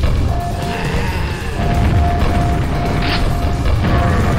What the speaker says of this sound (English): I like this bit where the ceiling comes down to crush you and you gotta stand in the hole